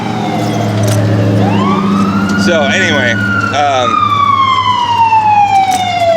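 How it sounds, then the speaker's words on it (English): A loud ambulance siren wails close by, its pitch sweeping upward and then shifting into rapid warbling bursts, while a person briefly speaks over it. "it's the ambulance. They're coming to take me away."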